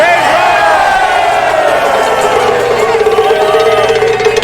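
A crowd of transit workers at a union rally roars and cheers, a dense continuous wall of voices with whoops and a speaker's raised voice riding on top throughout.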